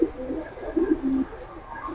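Soft, low cooing from pigeons in a loft of Afsan Bagha, silver and Kaldum colored birds, a few muffled throaty calls drifting over a steady background hum.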